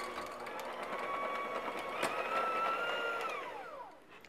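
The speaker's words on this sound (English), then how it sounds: "Now start your mixer slowly or you're going to end up wearing this." An electric mixer starts slowly and works spring cookie dough, a steady mid-pitched motor whir with a brief rise in speed before it winds down and stops.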